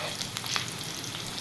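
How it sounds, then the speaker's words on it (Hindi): Onion tempering for nihari sizzles and fries in hot oil, a steady close crackle with a few sharper spits and pops and no talk over it. "ये हो रहा है प्याज का भगार तैयार"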